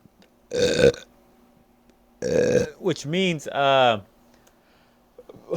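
A man burps twice, loud and close to the microphone, with a short gap between the belches, and both are followed by his own speech.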